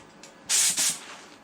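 A spray gun sprays clearcoat in two short, close hissing bursts, the first slightly longer, separated by a brief break.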